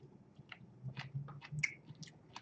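Strawberries are bitten and chewed up close, giving a quiet series of soft, crisp crunches and moist clicks spaced irregularly over a faint low background, with no talk.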